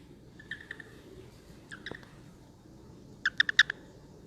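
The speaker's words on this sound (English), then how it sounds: "I hope you guys can hear him chirping." An American toad gives short, high chirps in small bursts, faint at first, then a louder cluster of quick chirps near the end, over a quiet room background.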